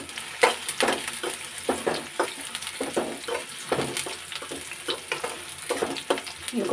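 Onions and green chillies fry in a pan for crispy aloo patties, a steady crackling sizzle broken by repeated sharp scraping knocks of a spoon stirring, close and fairly loud with no talk.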